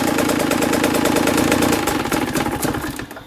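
KTM motorcycle engine idling nearby, a loud, steady, rapid mechanical chug that runs throughout and begins to fade in the final moments.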